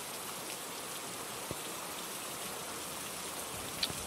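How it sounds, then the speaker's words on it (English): Steady rain falls in the video game Phasmophobia, a continuous even hiss of drops on surfaces with a couple of faint sharp drips, no voices present. "I love rain."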